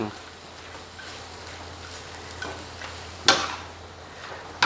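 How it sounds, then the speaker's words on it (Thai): Thai basil stir-fry with village chicken simmers in a pan after water is added, making a soft continuous bubbling hiss with occasional light stirring scrapes and one sharper clatter near the end. "แล้วทีนี้ก็เคี่ยวไปพัก"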